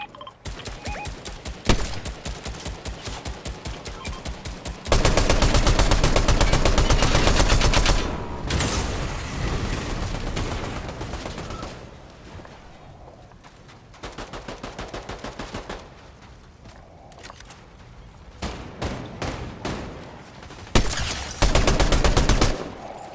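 Video-game sniper fight: bursts of rapid gunfire cracking in dense volleys, some long and loud, others short and sparser, with brief quiet gaps between exchanges.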